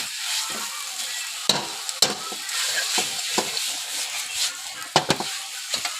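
Pad kaprao made with rat meat sizzles and crackles steadily in a hot pan, broken by sharp clanks of a spatula stirring against the metal, close and with no talk.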